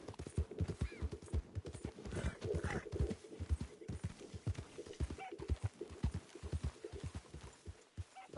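A horse in Red Dead Redemption 2 gallops with rapid, rhythmic hoofbeats pounding close and steady, with faint neighing mixed in under a low game background.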